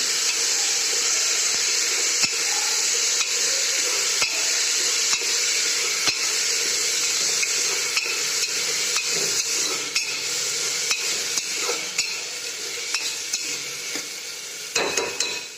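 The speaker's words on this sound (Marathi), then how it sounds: "मी का ह्याच्यामध्ये मटकी टाकते अगोदर नाही का मच्छी टाकली होती मच्छी पण चांगली हलवून घेते" Steady sizzling and frying of fish and moth beans in a pan with a spoon stirring through it, scraping and clinking now and then, close by and fairly loud throughout.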